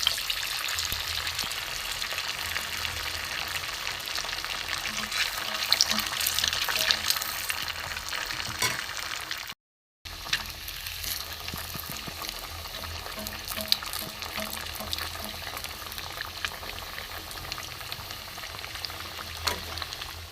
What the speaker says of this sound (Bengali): এবার আমি ডিপ ফ্রাই করবো এবার তেলে আমি বেঁচে নেবো